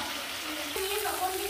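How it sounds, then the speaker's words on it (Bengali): Water is poured into a pan of jackfruit and prawn curry as it cooks, a sudden rushing splash over the existing sizzle. Close and moderately loud. "এই জলটা দিয়ে দেবো"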